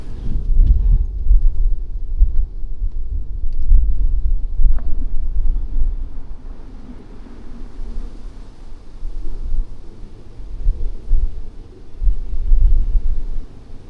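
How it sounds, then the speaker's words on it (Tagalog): Strong gusty wind buffets the microphone outdoors at a farm resort overlooking Mount Batulao, a continuous low roaring rumble that swells and eases in waves, with no voices. "Mahangin."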